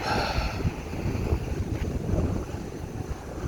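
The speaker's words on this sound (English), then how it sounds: "It's kind of breezy out here, but it feels good." Steady wind blows outdoors around Washington Street in Hartford, Connecticut, producing a continuous rough rumble and microphone buffeting that holds at a fairly loud level without any talk.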